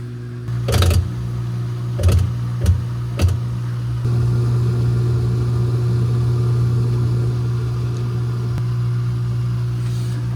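GE stackable washing machine in a spin-only cycle: a few knocks and clunks at the start, then a steady, loud motor hum as the drum spins up and runs evenly.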